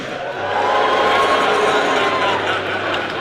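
A crowd at a boxing event surrounding Anthony Joshua vs Carlos Takam cheers loudly for promoter Eddie Hearn, swelling after a brief moment into a sustained, dense roar that holds steady to the end.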